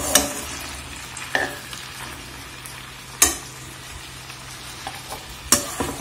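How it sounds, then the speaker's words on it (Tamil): Vegetables for Madras-style aviyal are stirred in hot oil: a low, steady sizzle with a few sharp scraping clinks of the spoon against the pan, close and alone without talk. "இந்த எண்ணெயில் வந்து ஒரு புரட்டு புரட்டினீங்கன்னா போதும்."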